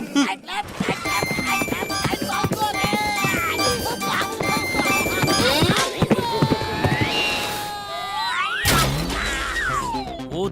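A racehorse clip-clops in quick hoofbeats, then lets out a drawn-out neigh over busy animated-show music and effects; voices speak over part of it.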